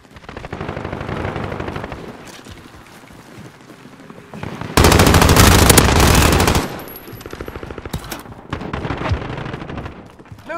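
Machine gun fire in the video game Call of Duty: Modern Warfare, loud rapid automatic bursts with a dense sustained stretch of fire in the middle, close and dominating, followed by scattered further shots.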